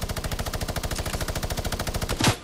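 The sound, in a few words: minigun firing in the video game Fortnite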